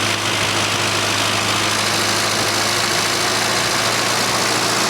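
A car engine runs steadily at raised revs of about 2,000 RPM during ignition timing work, a close, continuous droning hum with an even tone and no talking.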